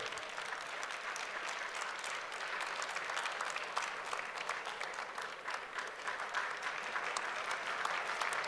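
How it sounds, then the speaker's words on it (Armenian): Sustained applause from the audience at the Miss Armenia 2019 beauty pageant final as twenty contestants return to the stage, dense, steady clapping that carries on evenly for the whole stretch, with no voices above it. "20 գեղեցկուհիները վերադառնան բեմ, խնդրեմ, ձեր ջերմ ծափողությունների ոգևորիչ ծափերի ներքո"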